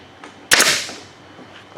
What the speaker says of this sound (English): we're going to throw just a couple of staples into that